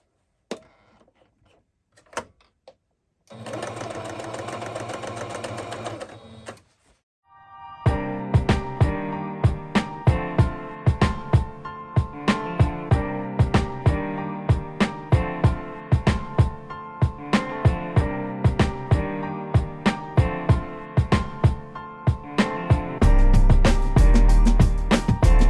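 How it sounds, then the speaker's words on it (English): A sewing machine runs in fast rhythmic bursts of stitching, its mechanical clatter loud and close, preceded by quiet moments and a brief whir. "So back to the sewing machine."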